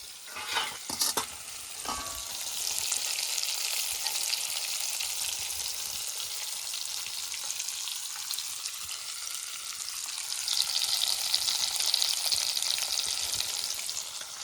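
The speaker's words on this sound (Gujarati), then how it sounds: "હવે આપણે કંકોડા ભરેલા કંકોડા જો તેલમાં સડવા દેવાના ભરેલા કંકોડાને" Stuffed spiny gourd (kantola) dropped into hot oil with cumin and mustard seeds, first a few sharp clatters and pops, then a steady, strong hiss of frying that swells slightly later on, close and without talking.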